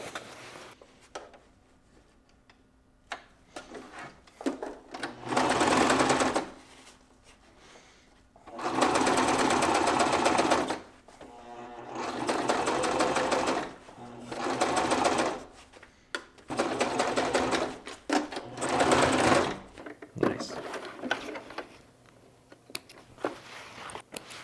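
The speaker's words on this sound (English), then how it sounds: "we're going to stitch along here, right here" Sewing machine stitching a seam through four-way stretch fabric on an inside hydration sleeve, running in five bursts of steady whirring between quiet pauses, loud and close.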